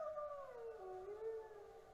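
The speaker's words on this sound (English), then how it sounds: "Oh, that's only the dog down in the barn." A dog in a barn howls in a long, wavering tone that slides downward and then holds, one sustained cry at moderate distance, staged as a radio drama sound effect.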